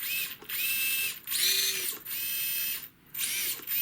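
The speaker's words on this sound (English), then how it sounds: "Steering servo seems pretty slow, pretty weak" Steering servo on a UDIRC UCX24 Snow Leopard RC crawler whining back and forth in several close, buzzy bursts with brief pauses between them.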